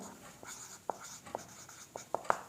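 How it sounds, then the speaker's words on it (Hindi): Chalk or marker writing on a classroom board during a physics lesson, a series of short scratchy taps and strokes with irregular spacing, growing slightly sharper toward the end over faint room noise. "तो मैं इधर लिखता हूं टाइप्स ऑफ"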